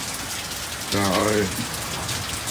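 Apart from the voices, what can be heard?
heavy rain pouring down on a garden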